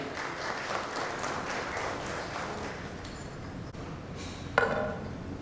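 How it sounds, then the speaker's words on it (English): An audience claps steadily in a continuous dense patter to welcome the chief guest at a financial inclusion event, heard at a moderate distance, followed by a brief sharp clink near the end. "So with a warm round of applause, please help me welcome our Honorable Chief Guest, Dr. Jayanti S. Ravi."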